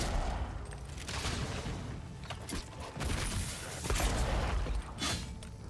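A gun in the video game Avowed fires a double shot amid dense, continuous combat noise, with repeated bursts and booms layered over a busy, fairly quiet game mix.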